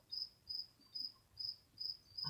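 Crickets chirping outdoors, a faint high trill repeating in short regular pulses about twice a second, steady and distant with no voices.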